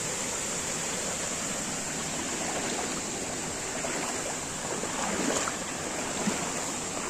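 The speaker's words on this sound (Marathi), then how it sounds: "इकडून असं वरतून येणार पाण्याचा प्रवाह" Water pours down from above over a small dam-like structure near a village temple, a continuous broadband rush that stays steady and fairly close throughout with no talk.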